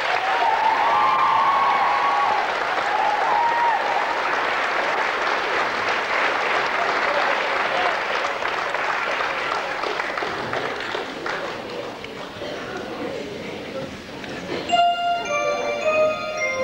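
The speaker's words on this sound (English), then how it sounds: "give a big round of applause for the cast of this year's show" Audience applause for the cast of a 1999 Holy Rosary College school production of Joseph and the Amazing Technicolor Dreamcoat, sustained dense clapping that fades toward the end before music begins.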